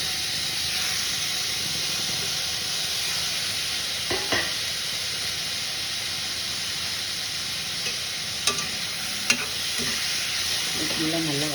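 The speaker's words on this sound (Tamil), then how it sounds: "இதெல்லாம் நல்லா வதக்கணும். தக்காளியோடைய அந்த காய்கள்லாம் நல்லா வதங்கிடும்." Chopped tomatoes, beans and potatoes sautéing in a pan give a loud, continuous hiss and sizzle throughout, with a few brief utensil scrapes and knocks near the middle and the end; no voices.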